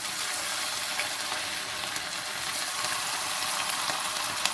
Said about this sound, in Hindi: अब इसको जो है वो हम ऐसे फ्राई करें।